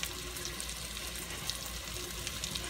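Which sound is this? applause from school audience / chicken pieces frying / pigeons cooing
chicken pieces frying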